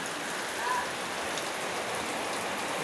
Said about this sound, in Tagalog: Ayan naman ito ang ulan.